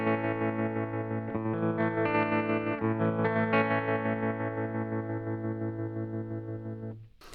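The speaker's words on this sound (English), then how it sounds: "I'm going to go to the 8th note just so that we're somewhere in the middle, and I'm just going to, that's a little bit more tremolo sounding." An electric guitar chord rings through a MayFly Terrain Deluxe tremolo pedal set to eighth notes, its volume pulsing in a steady, even rhythm as the notes sustain and change, then the sound cuts off.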